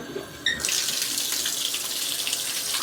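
Water abruptly starts gushing through a Hammerhead shower filter into a bathtub, a sudden loud, steady hissing spray that continues close by without any speech.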